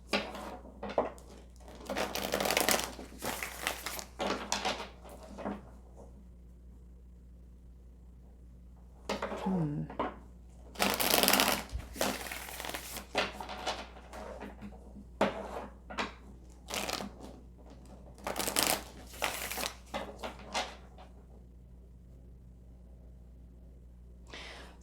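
A deck of tarot cards is shuffled in several separate bursts of riffling, slapping and crinkling, close and fairly loud, with quiet pauses between them.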